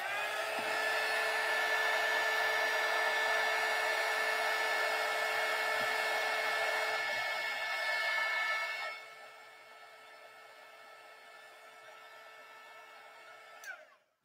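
A handheld dryer blows steadily on chalk paint over a craft project, a loud, even whine with a fan hum for several seconds. It then drops to a quieter hum and ends with a brief click as it switches off.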